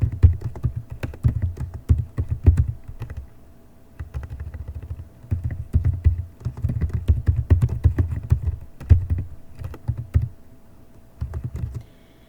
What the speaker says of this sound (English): here we're going to begin typing